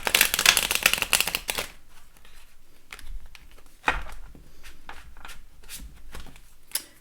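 Tarot cards are shuffled in a quick riffle burst, followed by quieter scattered flicks and soft slaps of cards being handled nearby.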